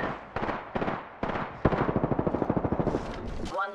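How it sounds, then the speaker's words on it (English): Automatic gunfire in the battle royale game Apex Legends: a few separate shots, then a fast rhythmic burst of about a dozen close, loud rounds, with voices speaking briefly around it. "Opening fire. I'm under fire."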